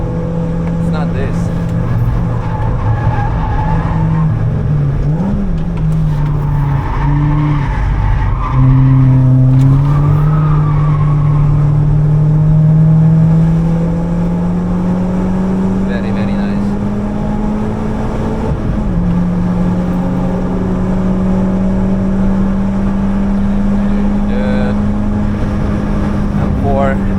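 Ford Fiesta ST150 lapping at the Nürburgring, its engine droning loud and close from inside the cabin with rising and falling revs, and a voice talking over the engine noise.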